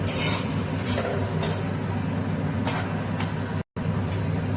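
Semolina being gently stirred in a pan over a low gas flame, a steady soft scraping and rasping under a constant background hum, with several brief sharper scrapes of the spoon against the pan.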